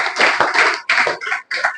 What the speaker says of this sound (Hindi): फिर से जोरदार ताली लगाइए